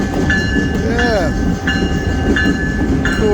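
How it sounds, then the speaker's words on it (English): Iowa Interstate GP38-2 locomotive number 711 at Chillicothe, Illinois, a steady close rumble of diesel engine and rolling train with repeated squealing, ringing tones over it. "On the Iowa Interstate train here."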